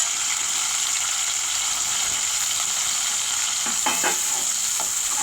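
Curry leaves and tomatoes sizzle in hot oil for a tempering, a steady bright frying hiss with a few louder crackles and spatters near the end, close up and with no voices.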